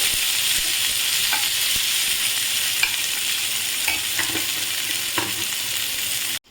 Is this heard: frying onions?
yes